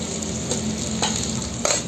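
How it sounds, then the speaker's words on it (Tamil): Onions sauté in hot oil with mustard seeds for a spicy prawn thokku, a steady, loud sizzle close up with occasional stirring scrapes through it and no voices. "வெங்காயத்தை போட்டு நல்லா வதக்கிக்கிடுவோம்"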